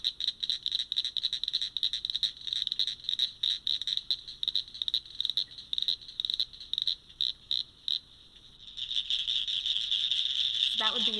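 A dense chorus of rapid clicking northern cricket frog calls rattles on steadily, many overlapping voices forming a continuous metallic trill that swells louder near the end.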